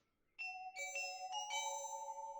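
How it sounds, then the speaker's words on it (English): A cartoon bell sound effect from Mickey Mouse Clubhouse rings out as a series of bright, clear chimes in a ding-dong pattern, loud and alone after a brief silence. "No, that's a bell."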